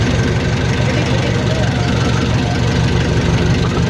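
A fishing boat's engine that is having trouble, out on the Pacific Ocean: a loud, steady low rumble and knock that fills the whole stretch with no break.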